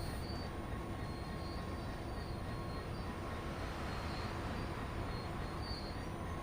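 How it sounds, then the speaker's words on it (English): A class 166 passenger train passes in a train simulator game, a steady, faint rumbling roar of wheels and engine that holds evenly throughout with no talk. "There goes a class 166, I believe, to our left."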